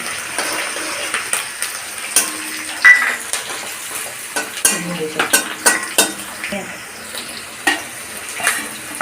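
Garlic and chana dal frying in a pan with sizzling, interrupted by repeated scraping stirs and clinks of a metal spoon against the pan, close and intermittent.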